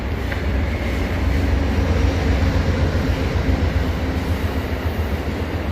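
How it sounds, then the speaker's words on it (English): An Amtrak or MARC passenger train rolls past near the Harpers Ferry canal trail, a loud, steady rumble with low rail roar and faint clatter throughout. "That's the Amtrak train, or MARC train"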